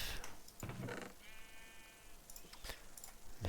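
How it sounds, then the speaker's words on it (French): In a Minecraft game, a sheep gives a short bleat with a wavering tone, heard among scattered clicks and light game sounds at moderate volume. "On va s'occuper des petits moutons."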